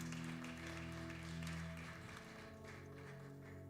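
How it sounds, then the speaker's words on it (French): A church congregation claps together in a steady, dense wash of applause while sustained music tones hold underneath, at an even volume throughout. "Can we give a hand to the Lord?"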